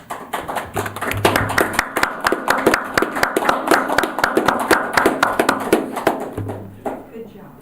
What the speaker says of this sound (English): Can we clap for Jen and everybody, all the work she's done?